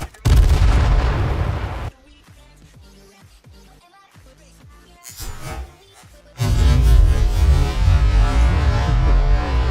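Heavy booming explosions from the video game H1Z1, roaring rumble in two long loud stretches, separated by a quieter passage of sharp clicks and pops.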